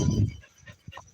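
A dog pants in quick, short breaths close by, with a faint whimper, in an otherwise quiet moment.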